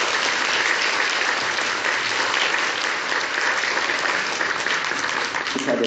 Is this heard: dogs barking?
no